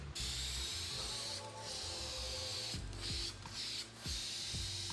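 VHT Wrinkle Plus textured paint hisses from an aerosol can onto a valve cover in long continuous bursts, broken by a few short pauses and faint clicks.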